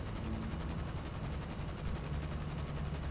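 Continuous rapid gunfire from a mounted vehicle gun in GTA V, a dense steady rattle of fast repeating shots that stays loud and unbroken throughout.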